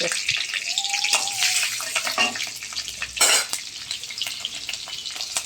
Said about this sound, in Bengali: তেলের মধ্যে পাঁচফোড়ন আর কাঁচা লঙ্কা দেব